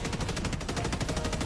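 A Gatling gun turret in Helldivers 2 fires a dense, continuous stream of rapid shots, loud and close throughout, with no talk over it.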